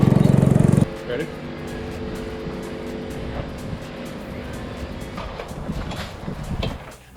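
Go-karts run on a track during a racing session, with engine drone and passing whines at moderate distance after a loud opening burst, and a voice talking over the engines.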